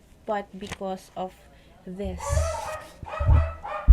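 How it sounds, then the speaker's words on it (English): A pet dog barks several times, sharp close yips over someone speaking, with other room noise around them. "Excuse the dog."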